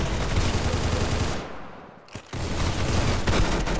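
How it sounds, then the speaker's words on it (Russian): Roblox Arsenal gunfire from a player shooting from above, rapid loud bursts of shots that drop out briefly mid-clip before resuming with a few sharp cracks. "Стреляет чувак тут сверху."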